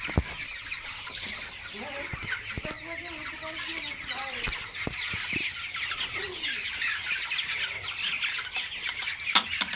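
Several chickens cluck and squawk close by inside a coop in an intermittent, overlapping chorus, with occasional sharp knocks and clatter mixed in.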